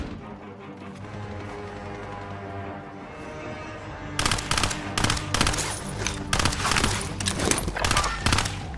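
Rapid automatic gunfire in Call of Duty: Modern Warfare rings out after a few quieter seconds of ambient rumble, bursting into loud, closely spaced shots that continue in stuttering volleys, with faint talk beneath.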